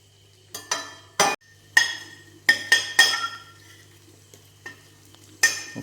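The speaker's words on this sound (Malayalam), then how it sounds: "നമ്മൾ സെക്കൻഡ് ബാച്ച് വറക്കാനിട്ടിട്ടുണ്ട്." A second batch of clams fries in oil for a Kerala-style clam fry, a sizzle under clinks and scrapes of a metal spoon stirring against the pan, close with intermittent knocks.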